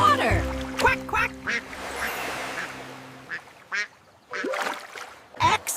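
Duck quacks within a children's alphabet song: several short nasal quacks in quick bursts over a bright, tonal music backing, rising and falling in loudness.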